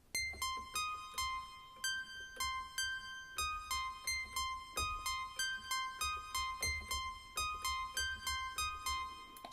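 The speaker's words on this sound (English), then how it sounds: "the analog synthesizer, we're using the voice called Sawbass 1. But what I'm doing, I'm actually shifting it up 3 octaves." Roland JD-Xi analog synthesizer playing a sequence on its Sawbass 1 voice shifted up three octaves: a bright, buzzy repeating pattern of short plucked notes at a steady pulse, loud and close, with no talk.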